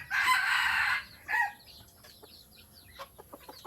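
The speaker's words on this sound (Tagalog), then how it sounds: "Ito yung bantam ng aking kaibigan" A bantam rooster crows nearby, one loud, strained call lasting about a second, followed by a shorter crow note and then softer clucks and rustling.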